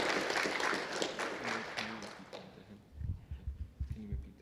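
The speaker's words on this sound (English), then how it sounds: "Oh yeah, applause first." A conference audience claps briefly and lightly after a talk, the applause fading out within a couple of seconds before a voice starts speaking close by.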